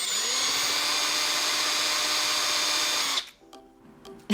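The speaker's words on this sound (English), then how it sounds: "drill to make the first hole" A power drill whines steadily as it bores a hole through the center of a thrifted platter, loud and continuous for about three seconds before cutting off, followed by a few faint clicks and handling sounds.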